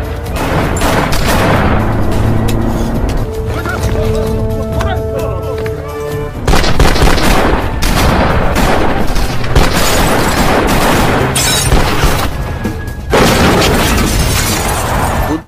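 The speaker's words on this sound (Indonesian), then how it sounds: "baku tembak pun tak terhindarkan" Gunfire and blasts in a film shootout between police and smugglers, dense bursts of shots and booms layered over dramatic music, loud and continuous with sharper volleys after the midpoint.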